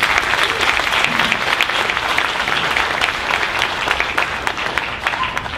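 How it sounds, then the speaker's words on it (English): A crowd at a Hellraiser reunion panel at the Monster-Mania horror convention breaks into loud, sustained applause, a dense steady wash of many hands clapping throughout, with no pause. "So give yourselves a big round of applause."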